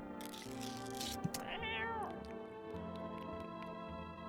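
A cat meows in a video game, a single drawn-out rising and falling meow heard close over soft looping game music with faint ticking clicks.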